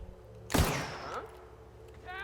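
A single loud, close gunshot rings out in The Outer Worlds and decays with a ringing tail, followed by quieter game sounds and a brief tonal effect near the end.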